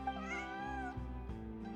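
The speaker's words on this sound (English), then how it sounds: "your pet cat?" A cat meows once in the video game Genshin Impact, a drawn-out, wavering cry at moderate volume, followed by softer, lower game sounds with no talking.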